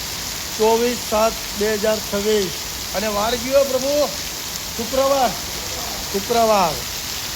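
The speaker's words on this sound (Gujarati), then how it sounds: "ખૂબ સરસ વરસાદ ચાલુ ધોધમાર." Heavy morning rain pours steadily as a constant hiss throughout, running under a man's intermittent speech close to the recorder.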